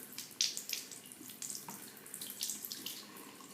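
Tap water runs steadily into a sink while soap is rinsed out of a makeup brush, with splashy bursts as the bristles pass through the stream; close and moderately quiet, no talking.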